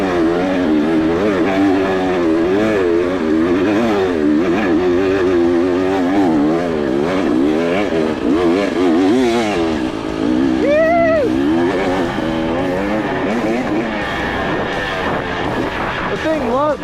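A custom-built 2024 KTM 300 XC off-road motorcycle runs with a loud, rising and falling engine note that surges and eases throughout, with someone talking over it.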